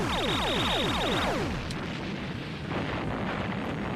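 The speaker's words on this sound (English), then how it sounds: "I have to admit, the explosions are just a tad dramatic." A dramatic explosion cutscene from an 1980s LaserDisc arcade game, with a falling synthesized whistle sweeping down into a loud, rumbling blast that roars on and slowly settles.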